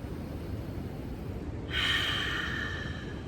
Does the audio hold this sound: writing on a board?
no